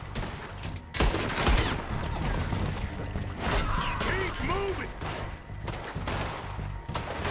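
Revolver shots ring out in Red Dead Redemption 2 during a shootout at an O'Driscoll camp, a loud close crack followed by a dense, continuing volley of gunfire and crashing impacts with brief whistling tones midway.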